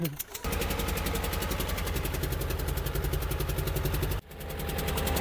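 A car overturned on its roof in snow, with four-wheel drive engaged, drives with its engine running steadily and droning loudly throughout. A brief sharp dropout cuts in near the end.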